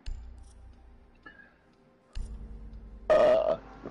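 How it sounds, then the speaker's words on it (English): A single loud burp from a player on a live PS4 game stream erupts near the end, standing out over low background game noise and faint clicks. "I just burped it."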